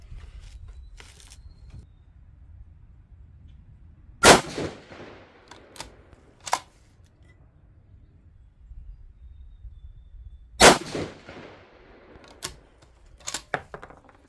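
A 6mm ARC rifle loaded with Hornady 100gr Interlock bullets fires sharp, loud reports several seconds apart in a quiet setting, with softer clicks and handling noises between the shots.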